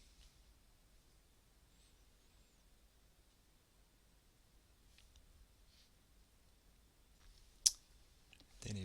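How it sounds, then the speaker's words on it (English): A single sharp computer mouse click stands out near the end, preceded by a few fainter clicks against quiet room background. "Click Save and Send."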